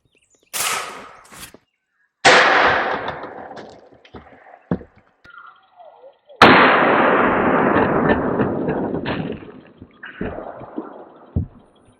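A rifle with a 16-inch barrel, an M5V3, fires at a US Army helmet from 15 yards, giving several sharp, loud cracks spaced across the span, each followed by a long ringing decay.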